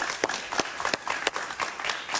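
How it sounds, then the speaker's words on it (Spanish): A studio audience claps steadily to welcome a Venezuelan journalist onto a television interview set, a dense wash of close, overlapping handclaps with a few sharper peaks and no talk. "la recibimos con un aplauso, por favor"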